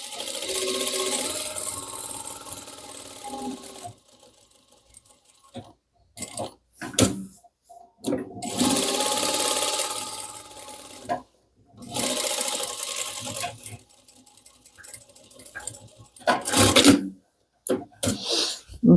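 A sewing machine with a quick-change presser-foot shank stitches a fabric tote bag in several long bursts, loud and close, separated by pauses full of small handling clatter.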